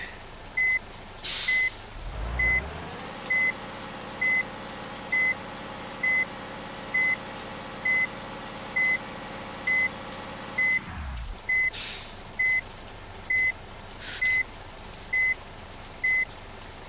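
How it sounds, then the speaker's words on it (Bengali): A truck in a realistic truck driving video game reverses, its beeper sounding in an even, repeating series of short tones over a loud engine drone that rises and then cuts off, with a few clanks and chirps around it. "এই গাড়িটাকে ব্যাক করতে হবে।"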